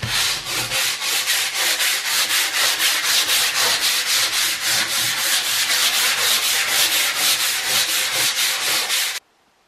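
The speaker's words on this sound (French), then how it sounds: "Ensuite je vais appliquer une première couche de vernis." Steady rhythmic brushing strokes applying clear varnish onto a wooden plank, a loud, close, regular back-and-forth rubbing that stops abruptly at the end.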